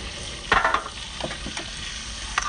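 Octopus and other seafood sizzle and spatter in a hot oiled wok, a steady frying hiss punctuated by a few sharp louder crackles and stirring clatters close up, with no talking.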